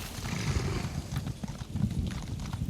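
Horse hooves gallop in a steady rapid clip-clop beat in The Elder Scrolls Online: High Isle, close and fairly loud with no talking over them.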